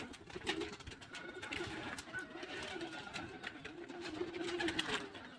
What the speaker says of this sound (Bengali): আসলে এখানে প্রচুর কবুতর।